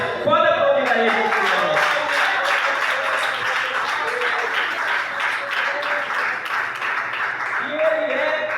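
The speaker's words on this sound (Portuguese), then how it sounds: "Pode aplaudir a Ele." Applause from a church congregation at a communion service fills the space, mixed with scattered cheering voices and a sustained musical tone underneath.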